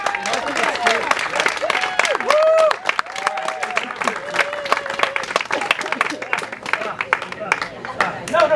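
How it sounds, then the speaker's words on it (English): Audience at a comedy show fundraiser claps steadily throughout, dense applause with a voice and cheering mixed over the top. "No, keep the fucking applause!"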